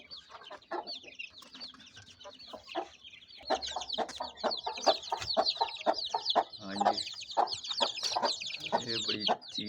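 Aseel chickens, a hen and her young, cluck and chatter close by in a farmyard. A steady stream of short clucks and calls overlaps faint background voices.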